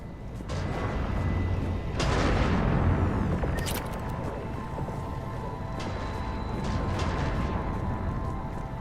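Cannons fire in the video game Mass Effect 3 Legendary Edition on Omega, a steady roaring rumble punctuated by several heavy booms and sharp blasts, loud and continuous throughout with no talking.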